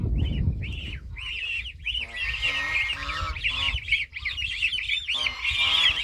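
A flock of geese honks repeatedly in the morning, with overlapping nasal calls from several birds at close range, loud and busy throughout, alone without talk.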